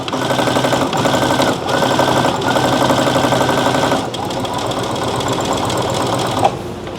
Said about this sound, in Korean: 근데 미싱이 좀 더 빨랐으면 좋겠어요, 사실은.